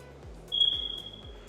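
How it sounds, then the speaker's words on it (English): A single high-pitched chirp from a smoke detector in a new house rings out and fades, over a quiet low background hum. "Sorry about that beeping."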